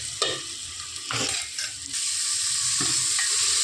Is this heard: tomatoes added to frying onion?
yes